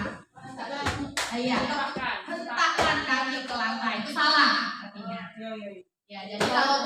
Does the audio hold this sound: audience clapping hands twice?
yes